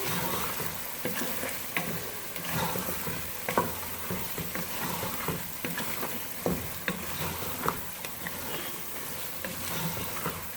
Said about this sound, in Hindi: प्याज, लहसुन, अदरक के पेस्ट में हम अच्छी तरह से इसको फ्राई करेंगे।